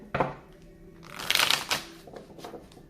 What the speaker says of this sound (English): Do two more shuffles